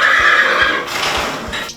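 A horse at a stable gives a loud, close, shrill whinny that trails off, with faint hoof clip-clops underneath and no talking.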